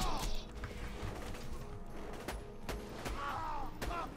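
Sporadic single gunshots crack out from a first-person fight in Borderlands 2, a few sharp isolated bangs spaced over a few seconds against a busy background of game effects.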